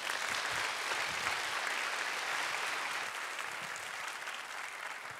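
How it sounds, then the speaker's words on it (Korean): A church youth-service congregation gives long, even applause to welcome a visiting pastor, heard as a continuous roomful of clapping that eases slightly toward the end. "이강 목사님 환영하는 의미로 큰 박수로"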